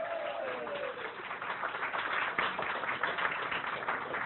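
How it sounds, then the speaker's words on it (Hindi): An audience at a closing ceremony for a course in Lahore claps in steady, dense applause, held at a moderate, even level throughout. "अदनान के लिए बहुत सारी तालियां जी, बहुत ज़बरदस्त सा क्लैप।"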